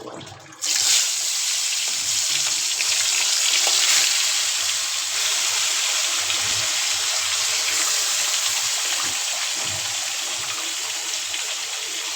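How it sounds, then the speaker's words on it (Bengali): Loud, continuous sizzling of food frying in hot oil begins abruptly and crackles steadily up close for several seconds, with no voices. "মাছ ভাজা নিব"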